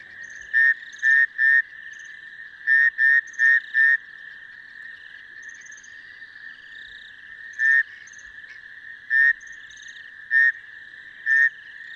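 Male rain frogs calling at dusk, short repeated chirping croaks in irregular bursts and pairs, clear and close over a quiet background with faint insect hum.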